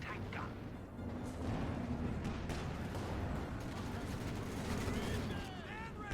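Calliope rocket artillery barrage in the strategy game Company of Heroes, a dense run of rumbling blasts and crackling impacts layered with other battle noise while a voice talks over it.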